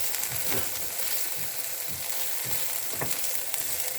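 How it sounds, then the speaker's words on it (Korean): Potatoes stir-fried in a pan over medium heat give a steady, close sizzle with soft scraping stir strokes recurring every second or so, no talk. "3분의 2 익었다 싶으면 이제 중불에서 이렇게 볶아주죠."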